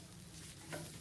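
Drumstick leaves and garlic stirred and fried in a pan for a village-style stir-fry, giving a steady soft sizzle with light scraping throughout and a brief louder stir near the end.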